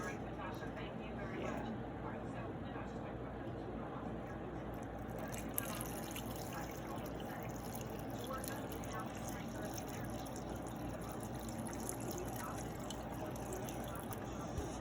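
Leftover broth poured from a container onto the side of a tamale, a soft liquid trickle running steadily beneath ongoing talking.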